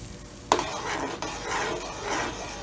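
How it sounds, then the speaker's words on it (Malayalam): A spoon swirled through boiling water in a pot while preparing poached eggs, a sharp clink followed by continuous watery swishing and bubbling close up. "സ്പൂൺ ഇളക്കി കൊടുക്കുക"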